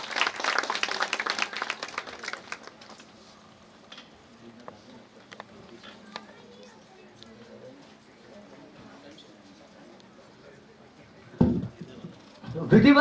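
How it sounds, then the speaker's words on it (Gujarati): Audience applause welcoming a legislator as a guest at an International Women's Day event, a burst of crowd clapping at the start that fades into quieter room noise, with more clapping rising again near the end. "ધારાસભ્ય શ્રી સંદીપભાઈ દેસાઈનું પુષ્પાભર્યું જોરદાર તાળીઓથી સ્વાગત કરીએ"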